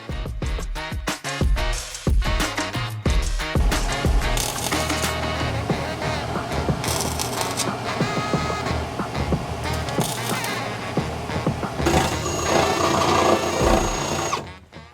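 Flux core welding on thin, rusty BMW E30 sheet metal: a steady crackling, sputtering arc runs almost the whole time, close and loud, broken by short stops and restarts near the start.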